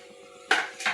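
A spoon clatters against a pan while chili powder is stirred in, two quick sharp scraping knocks close by, half a second apart, over a quiet background.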